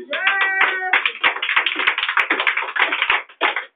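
A church congregation claps rapidly and loudly, a dense run of sharp hand claps that fills the whole stretch, with a brief vocal or musical tone at the start and a short gap near the end.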